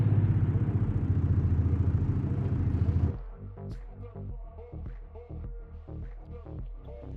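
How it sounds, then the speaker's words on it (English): A turbocharged V6 car engine in the CarX Street racing game drones loudly and steadily for about three seconds, then drops to a lumpy, rhythmic idle that pulses on with no talking. "And this is a turbo sound V6, so this is a really cool one."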